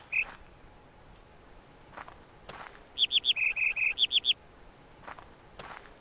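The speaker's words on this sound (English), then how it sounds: "I understand the bird chirps for a helping hand" Bird chirps from a jungle sound puzzle in the video game The Witness: a lone chirp, then a quick run of about nine bright, evenly spaced chirps over faint ambient background.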